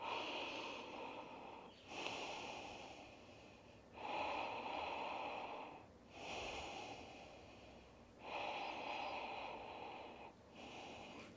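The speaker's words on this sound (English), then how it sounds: "So, hands over your mouth and just breathing." Slow nose breathing through hands cupped over the mouth, heard alone as about five long, airy inhale-exhale cycles at a calm, even pace, close and moderately loud.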